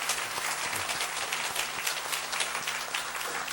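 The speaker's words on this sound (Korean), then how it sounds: "우리 박수로 한번 환영해 주시면 고맙겠습니다." A church audience claps continuously to welcome visiting pastors and their wives, an even, moderately loud applause with no voices over it.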